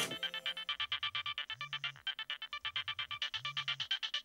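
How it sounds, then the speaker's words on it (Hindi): A mobile phone ringtone plays in a Hindi television drama, a rapid, bright repeating melodic pattern pulsing steadily for several seconds, clear and alone with no talking. "आ गया फोन"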